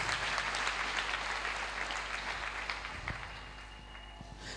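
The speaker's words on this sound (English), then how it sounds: "Clap for Lord Jesus Christ." Congregation clapping for Lord Jesus Christ at a church service, a steady wash of applause that carries through most of the clip and thins slightly toward the end, with no talk over it.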